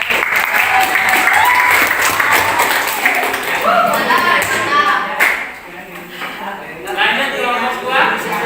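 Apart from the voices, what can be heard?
class applauding group presentation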